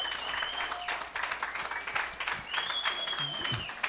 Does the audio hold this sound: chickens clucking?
no